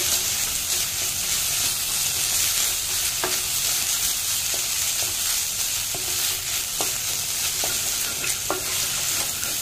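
Coconut paste stuffing for potoler dorma is stirred in a hot frying pan, a steady loud sizzle with scattered soft scrapes and taps of a large spoon running through it.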